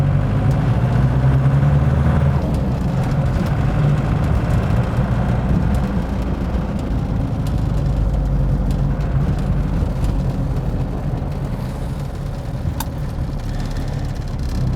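Inside a 1988 Jeep Cherokee XJ under restoration while driving on a main road, a loud, steady engine and road roar with rumbling low drone fills the cabin continuously, with a few small knocks from bumps.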